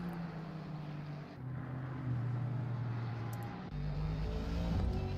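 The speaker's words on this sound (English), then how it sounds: "I can hear the engine" A race car engine in the racing game Assetto Corsa Competizione drones faintly but continuously, stepping through several pitch changes as it shifts gears and reaching a brief drop near the end.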